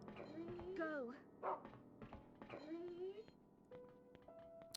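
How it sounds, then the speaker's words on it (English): A dog in the video game Rule of Rose gives whining, rising whimpers mixed with short barks and yips, in irregular bursts at moderate volume, with a low game ambience and a faint tone near the end. "Hello, doggy."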